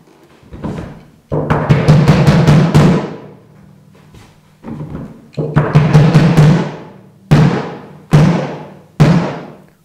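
A bass drum with a little added tension on the resonant head is hit in fast rolls and then three spaced single strokes, each a punchy low boom with a short decay.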